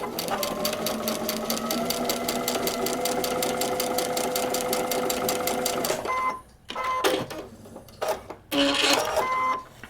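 A sewing machine stitches a paper-pieced quilt block, running in a steady rapid mechanical rhythm for about six seconds, then stopping and restarting in short bursts.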